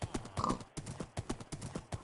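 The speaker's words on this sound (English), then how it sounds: "Very fast horse." Galloping horse in Minecraft, hooves clip-clopping in quick, rhythmic bursts that repeat steadily throughout, close and clear with no voices over them.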